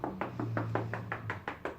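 A book's spine knocked repeatedly with the knuckles, about nine quick, even hollow raps close up, each slightly different in pitch, with no talking.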